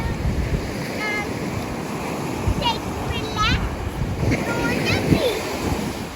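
Ocean surf rolls in at Sunset Beach, Hawaii, a steady wash of breaking waves mixed with wind across the microphone, while people's voices come and go over it.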